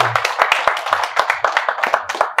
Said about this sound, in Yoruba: bá ń pàtẹ́wọ́ fún wọn